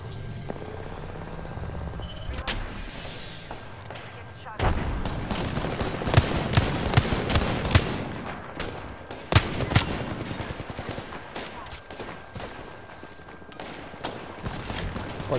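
Enemy team gunfire in Apex Legends, quieter shots at first, then loud, irregular single cracks and short bursts from about five seconds on, with a steady faint hum underneath.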